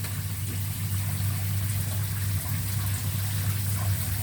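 Water from a motorhome shower running steadily over a low, humming pump drone, a constant, close trickling spray without talk.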